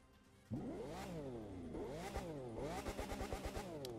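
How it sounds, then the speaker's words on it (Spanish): A Lamborghini Aventador V12 engine in the racing game The Crew 2 starts with a sharp burst, then revs up and down in repeated sweeping swells before settling into a pulsing idle, loud and close, with no talking. "Si lo arrancamos escucharemos un V12 de Aventador"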